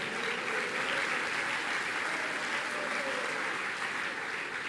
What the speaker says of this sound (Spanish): Un aplauso fuerte para nuestro Señor Jesucristo.